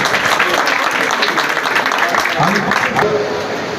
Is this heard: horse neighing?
no